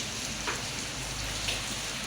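Dense, even hiss of heavy rain pattering on a surface, constant and close with no pauses.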